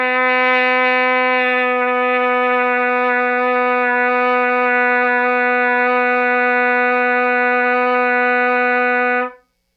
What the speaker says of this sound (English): they'll just try to lip the note down in tune. They won't use their valve slides.